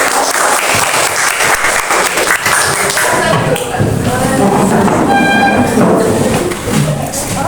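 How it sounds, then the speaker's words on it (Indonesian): A classroom of students claps together during a micro-teaching lesson, loud scattered applause at close range with some taps and shuffling and voices rising through it. "tepuk tangan buat kita semua"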